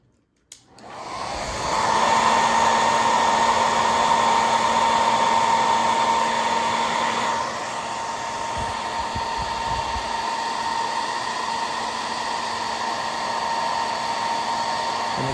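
A heat gun blows steadily near the microphone over a MacBook Pro A1398 keyboard, starting with a click, then a loud continuous whooshing roar with a high whine that drops slightly in pitch partway through and carries on without a break.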